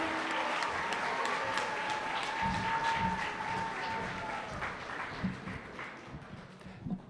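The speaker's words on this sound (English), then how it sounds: "Can we all join together with a big, warm round of applause at the Bank of Baroda Better?" An audience at a literature festival talk gives a warm, sustained round of applause, a dense wash of clapping that holds steady, then gradually thins toward the end.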